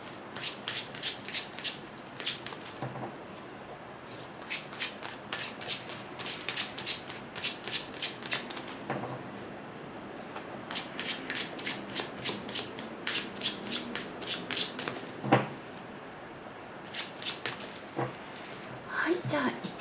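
Lenormand fortune-telling cards being shuffled by hand, repeated close bursts of crisp riffling and sliding separated by short pauses, over a quiet background.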